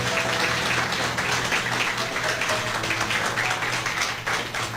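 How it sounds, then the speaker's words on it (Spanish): Applause from a church congregation during a sermon by Pastor Henry Pérez Naranjo, a steady broadband patter of clapping that fills the clip evenly, with a low hum underneath and no voice on top. "Dale ese aplauso al Señor"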